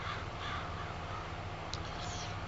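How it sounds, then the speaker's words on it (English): Crows caw in the farming video game Farming Simulator 22 on the Italia Emilia map, one faint brief caw under a steady, noisy ambient field background. "Get out here, crows."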